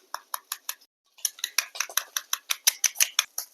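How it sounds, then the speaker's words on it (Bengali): A spoon clinks rapidly against a bowl while spices are stirred into sour curd, a near, bright run of taps that pauses briefly before resuming faster and louder. "এবারে সব মশলাগুলো একসাথে ভালোভাবে মিশিয়ে নেব।"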